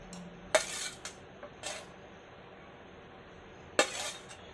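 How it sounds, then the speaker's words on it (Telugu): Stone mortar being pounded with brinjal, green chilli and salt: a few sharp, separate knocks and scrapes spaced out with quiet gaps, close by. "సో వంకాయ, పచ్చిమిర్చి, ఉప్పు వేసి దంచుకోవాలి ఫస్ట్"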